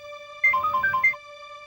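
A mobile phone ringtone for an incoming call in a Hindi TV drama scene: a short, bright melodic phrase of about a second, rising clearly over a steady, faint electronic tone, with no talking.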